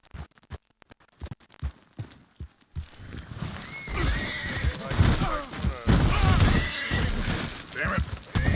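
A video game horse first clops in sparse, sharp hoof strikes, then breaks into loud, repeated neighs and whinnies over continued hoofbeats, with a voice talking now and then.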